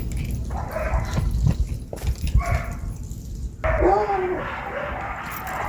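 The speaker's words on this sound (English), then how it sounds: "You hear the dogs going like crazy back there." Dogs bark excitedly in the distance, a flurry of rough barks over steady outdoor background noise.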